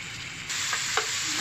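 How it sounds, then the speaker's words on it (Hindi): Chicken mince frying in a pan for spring roll filling, a bright steady sizzle that swells suddenly and stays loud and close, with a couple of soft stirring scrapes. "इसको हमने फ्राई शुरू कर दिया है जिसका कलर बिल्कुल चेंज हो रहा है।"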